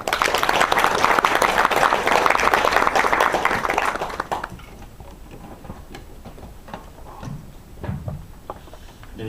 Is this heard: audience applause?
yes